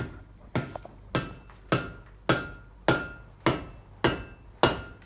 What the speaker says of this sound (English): So I'm using the cross peen of this hammer here.